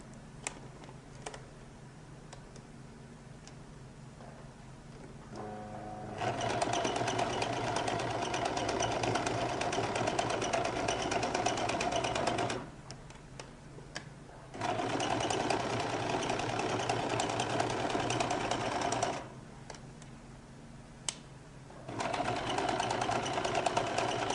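A sewing machine runs gather stitches through jacket lining in three steady mechanical bursts of several seconds each, separated by quieter pauses, with no talking.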